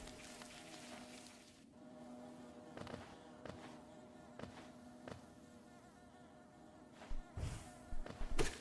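Bees buzz in Hollow Knight, a soft steady drone with faint in-game thuds and clicks scattered over it, low in level.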